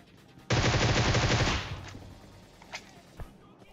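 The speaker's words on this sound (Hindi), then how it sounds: "मैं पीछे खड़े होके मारे जा रहा हूं गोलियां" A loud burst of rapid automatic gunfire in PUBG Mobile lasting about a second, then a fading rumble and a couple of single sharp shots.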